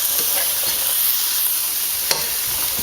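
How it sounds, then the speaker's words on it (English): Sliced onions fry in a hot pan while being stirred, a steady, loud sizzle with soft utensil scrapes and one sharper knock, with no talking. "I'm going to stir that around."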